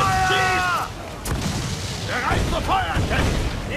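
Ship cannons fire a volley during a naval battle in Assassin's Creed 4 Black Flag, several deep booms and crashes in quick succession, with someone talking over them.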